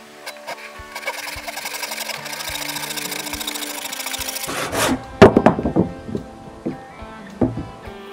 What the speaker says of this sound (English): So I started by sawing the driftwood I collected down to size.